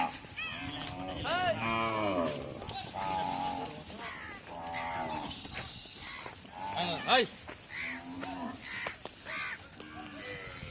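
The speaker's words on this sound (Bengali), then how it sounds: "লাখ লাখ গরু নিয়ে এই জায়গাটি" Many cattle low and moo loudly at a cattle market near the India–Bangladesh border, their long calls overlapping amid a noisy crowd with background chatter and a few crow-like caws.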